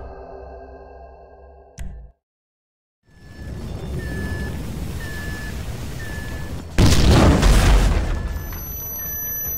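In-game explosion during a GTA 5 heist: a tone and humming ambience cut to sudden silence, a rumbling scene with repeated electronic beeps returns, then a loud roaring blast bursts in near the end and sustains.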